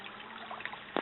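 Clear, shallow stream water trickling and running steadily over a rocky bottom outdoors, a soft continuous babble close by, ending in a brief louder splash.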